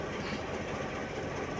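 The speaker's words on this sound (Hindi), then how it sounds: "गुड्स ट्रेन का एक्सप्रेस ट्रेन से ब्रांच लाइन पे क्रॉस।" A goods train and an express train cross at a small railway station on a branch line, giving a steady rumbling roar from the trains close by with no talk over it.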